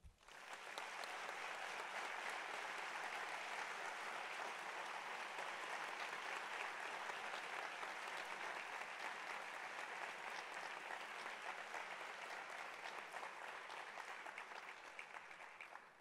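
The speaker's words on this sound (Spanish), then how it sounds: "os pido un fuerte aplauso." A gala audience against gender violence gives a sustained, even wash of applause in tribute to women victims, many hands clapping steadily and loudly for about fifteen seconds without speech.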